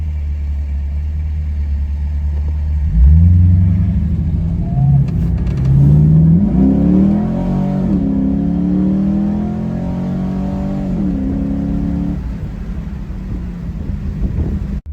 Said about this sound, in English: All right, I'm gonna do a hard pull here.